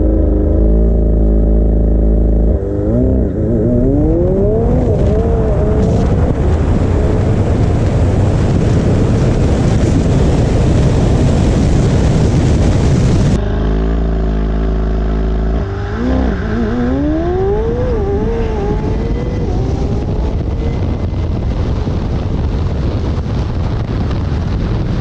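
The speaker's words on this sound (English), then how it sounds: "that was my first time ever drag racing the 720" A 720 sports car launches in a drag race, its engine roaring close and loud through rising shifts with wind buffeting, then a second hard pull with another climbing rev after a sudden cut.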